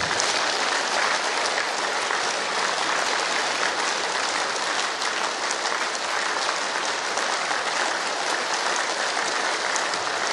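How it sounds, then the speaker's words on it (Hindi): Audience clapping at a mega yoga camp in a garden hall in Indore, giving a yogic-clap welcome to a guest speaker; loud, dense, continuous applause holds steady throughout without voices. "मैं चाहता हूं कि योगिक ताली से उनका स्वागत किया जाए।"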